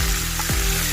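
Coriander leaves hit a hot pan and sizzle loudly in a dense, hissing burst lasting under a second, close up with no talking.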